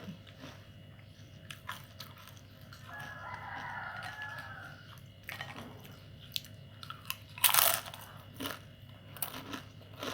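Crunchy market-bought snack being eaten in the morning alongside coffee, with quiet, intermittent bites and crunches close to the mic; a rooster crows faintly in the background and there is steady low room hum.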